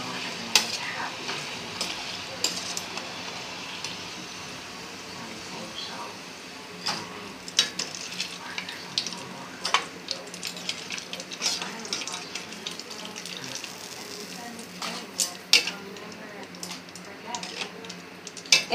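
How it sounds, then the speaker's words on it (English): Chips fry in a pot of hot grease on high heat, a steady crackling sizzle with sharp pops and occasional stirring and clinks of the pan. Voices talk faintly in the background. "And what temperature you got on frying your chips?"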